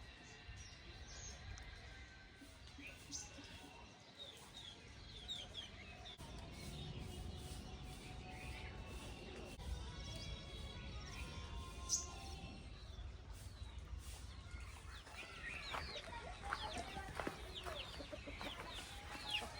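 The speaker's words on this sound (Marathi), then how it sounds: "गावाकडे कसला आवाज असतो कोंबड्यांचा" Chickens cluck and murmur at a distance in a quiet village mango orchard, with faint bird calls in the background.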